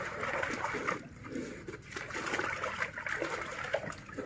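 Water scooped and splashed by hand in a small baby bathtub, a steady, busy sloshing and trickling close by that continues for the whole stretch without speech.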